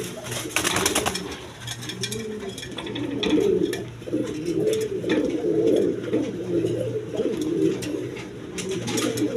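Pigeons, a pair of red shouking pigeons among them, coo in low, throaty, repeated rolls close by, overlapping one another continuously, with faint background rustling.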